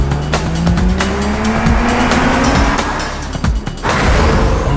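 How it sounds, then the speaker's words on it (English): A new Mercedes-Benz GLC's tires squeal loudly and continuously as the car is driven hard to warm them up, the shrill screech riding over a roaring engine whose pitch rises and dips. "I need to warm up these tires"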